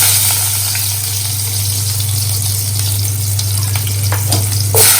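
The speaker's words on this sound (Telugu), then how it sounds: "ఇప్పుడు ఈ ఆయిల్లోకి మనము ఉల్లిపాయలు వేసేస్తాం" Sliced onions fry in about 40 ml of oil in a kadai, a loud, close, steady sizzle over a low constant hum, with scattered crackles and a stirring scrape at the end.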